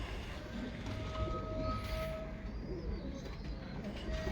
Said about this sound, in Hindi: ये जी माशाल्लाह जनाब सैफरान साहब ने कबूतर दिखाया है एक